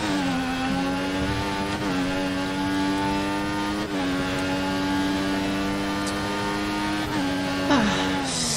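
F1 2014 Formula One car in Bahrain, its engine droning steadily at high revs with harmonic tones dipping briefly at gear changes and shifting pitch as the rear wheels spin up, loud and continuous throughout.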